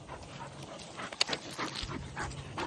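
A Florida iguana-hunting dog, a female, whimpers and gives a short bark outdoors, the sounds coming in brief bursts over a steady background noise.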